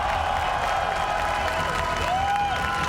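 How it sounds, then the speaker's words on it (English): An esports crowd at the EWC Riyadh Masters claps and cheers continuously at a moderate distance for the series champions, with a whistling tone sliding above the steady wash of applause. "please, a round of applause for your champions!"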